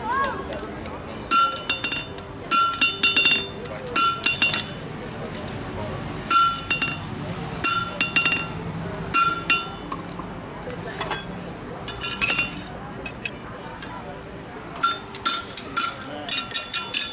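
A blacksmith at an outdoor heritage event hammers a horseshoe to smooth its rough edges. Bright metallic clinks come in quick repeated clusters with short pauses, and voices carry faintly in the background.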